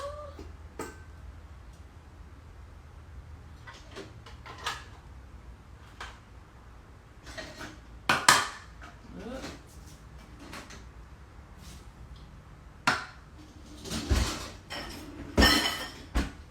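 Dishes clank and clink at irregular moments as items are lifted from a dishwasher and set down, with a steady hum of kitchen background noise in between.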